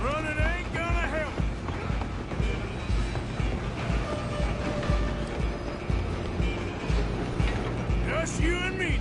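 A moving train clatters and rumbles along the rails with rhythmic mechanical clanking, loud and continuous beneath voices talking.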